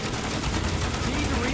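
Machine-gun fire in the online shooter Planetside 2, a dense continuous rattle of rapid shots filling the whole moment, loud and close.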